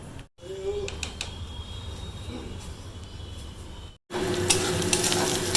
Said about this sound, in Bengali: এই কড়াইয়েই ভাজছিলাম, একটু তেলও ছিল, ওর মধ্যেই পেঁয়াজটা দিয়ে দিলাম।